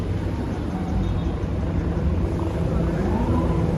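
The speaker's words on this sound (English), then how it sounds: "can really hear those helicopters zooming around." Helicopters over Manhattan near Worldwide Plaza make a constant low, churning rotor drone over a broad wash of city noise, steady and fairly loud without clear breaks.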